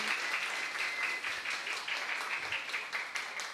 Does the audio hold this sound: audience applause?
yes